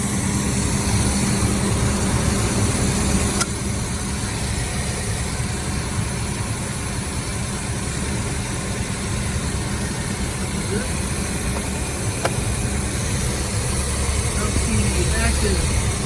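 A 1964 Studebaker Gran Turismo's engine idles steadily for the whole stretch, a continuous low rumble with a faint vibration, warming up in a driveway.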